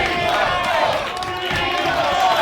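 Wrestling crowd at an indie show cheering and shouting continuously, a dense roar of many voices with some yells rising above it.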